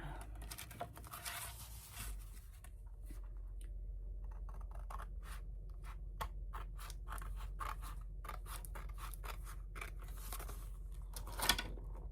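Scissors cut out a paper card close up, a long series of quick crisp snips and paper scrapes in an irregular rhythm, fairly quiet over a low background hum.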